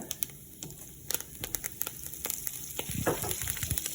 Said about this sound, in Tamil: இப்போ பார்த்தீங்கன்னு சொன்னால் எண்ணெய் கொதிச்சிருச்சு. நான் சீரகத்தை போடுவோம். சீரகத்தை போட்டு கருவேப்பிலை,